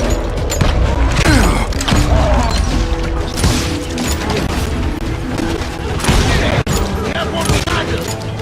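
Gunfire rattles loudly and almost without pause through a shootout in the Western video game Call of Juarez: Gunslinger, dense volleys of shots mixed with crashes and clanking weapon handling, with game voices calling out under the barrage.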